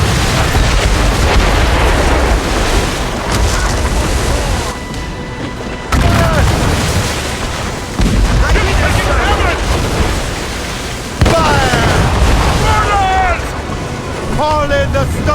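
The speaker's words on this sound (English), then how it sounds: "Ready those mortars, Sheriff." Ship-mounted mortars in Assassin's Creed Rogue boom in heavy, loud bursts at sea, each blast rumbling into crashing explosions over surf and wind, with shouted voices layered over the naval battle.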